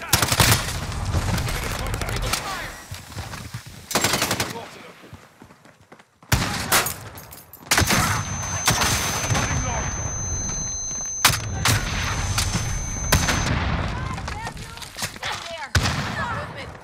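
Rocket launches and bursts of automatic gunfire in a team deathmatch video game on the Shipment map with RPGs: dense, loud volleys of shots and blasts, with short pauses between clusters.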